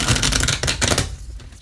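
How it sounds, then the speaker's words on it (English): Tarot cards being shuffled by hand, a dense run of quick papery riffling and slapping that fills most of the moment, then eases off near the end. "shuffle these up."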